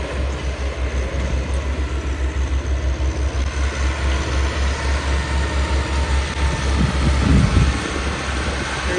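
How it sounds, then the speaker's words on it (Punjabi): A Massey Ferguson 385 4x4 tractor draws nearer out in farm fields, its steady diesel drone low and continuous, swelling slightly toward the end with a faint rattle, no voices. "ਉਹ ਇੱਕ ਟਰੈਕਟਰ ਆਉਂਦਾ ਪਿਆ 385 ਜਨਾਬ"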